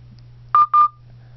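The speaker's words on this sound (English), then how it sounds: "This is actually the voice dialer itself." Two short telephone dialing tones from an LG Optimus voice dialer, clean and distinct, sounding one after the other over a faint steady hum.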